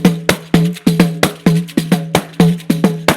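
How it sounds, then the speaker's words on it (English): A pandero frame drum played in a repeating thumb, fingertips, clap and shake pattern, about a dozen ringing hits in a brisk, lively rhythm mixed with sharper slaps, close and clear with no voices. "I'm going to show you how to play the pandero"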